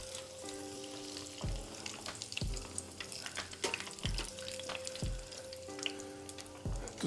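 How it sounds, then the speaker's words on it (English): An enormous Scotch egg deep-fries in a deep fat fryer, giving off a steady, close sizzle and bubbling crackle throughout, with no one speaking. "Got the deep fat fry heating up behind me, and we'll get these bad boys in shortly."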